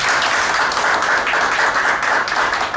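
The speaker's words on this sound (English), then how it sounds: "please give Kate a round of applause" Steady, loud audience applause for Kate at a speech event, dense clapping sustained evenly throughout with no talking.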